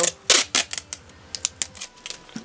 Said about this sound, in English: I'm just going to take some sellotape, which I'm trying to peel